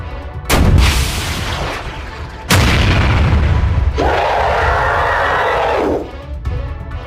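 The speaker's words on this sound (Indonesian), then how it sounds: "Rasakanlah tembakan basokaku ini, monster Hamud Habibi." Loud video-game bazooka blasts: two sharp booming shots with rumbling tails, then a sustained roaring whoosh that cuts off, followed by a further faint rumble.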